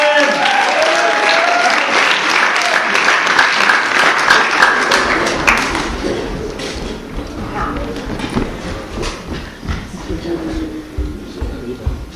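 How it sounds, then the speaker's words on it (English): Audience at an improv comedy show applauding: dense, loud clapping that starts strong, then thins out and tapers over several seconds, with some voices mixed in near the end. "let's give our umpires a round of applause and bring it back in."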